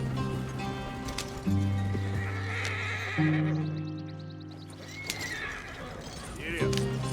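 Horse galloping and neighing in the video game Red Dead Redemption 2, with close hoofbeats, whinnies and a low rumble of other game sounds underneath, plus a voice speaking over it.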